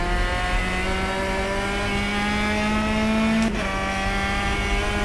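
Race car engine in a free Reiza Studios sim racing game, Petrobras De Marcas, holding a steady loud drone with a rising pitch, then a brief shift near the end as the note drops, with no talk.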